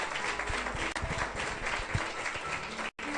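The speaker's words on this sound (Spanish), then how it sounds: "¿Qué le parece si le damos un aplauso al Señor en esta mañana?" Church congregation applauding during a Spanish-language worship service at a teachers' workshop, a continuous dense patter of clapping with a couple of brief dropouts and faint low thumps underneath.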